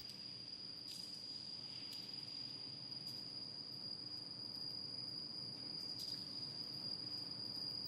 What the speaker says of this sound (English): It is surprising that there are crickets hiding down here.